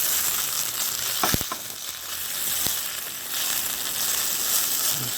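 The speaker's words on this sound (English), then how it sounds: "That is sound of searing." A pork loin sears in a hot pan on an induction cooktop, giving a steady broad hiss of frying with a few sharp crackles and pops early on, close and continuous throughout.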